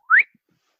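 A voice imitates a phone notification whistle heard in an office: one short rising whistle, close and clear, alone with silence after.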